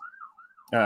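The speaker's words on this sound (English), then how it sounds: "you can hear the sirens" A faint, wavering emergency-vehicle siren drifts in through an open window on a fall day in New England. It is heard for well under a second before a voice starts speaking over it.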